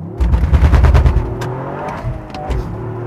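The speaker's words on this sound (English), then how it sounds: "Let's launch this car." A 2021 Toyota GR Yaris hot hatch launches hard, its engine roaring loud and close with crackling, popping bursts, then settling into a lower drone as it pulls away.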